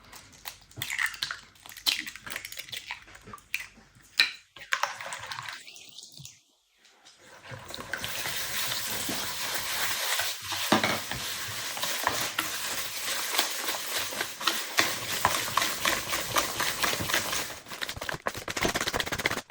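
Rapid, continuous hand whisking of eggs with sugar in a bowl, with quick scraping strokes that pause briefly partway before resuming at a steady pace, close up.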